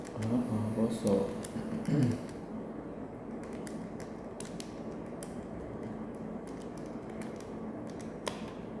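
Someone types on a computer keyboard with quiet, irregular key clicks spread throughout, while people talk softly at the start.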